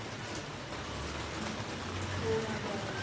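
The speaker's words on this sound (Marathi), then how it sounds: "बाहेर पाऊस चालूच आहे अजून" Rain falling outside, a soft continuous hiss of steady rainfall heard faintly and at a distance, with no distinct drops standing out.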